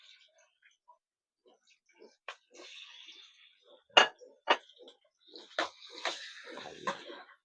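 Chicken pieces go into a pan of browned garlic, onion and ginger for tinolang manok, giving scattered metallic clinks and scrapes with patches of soft frying hiss, close by and fairly quiet.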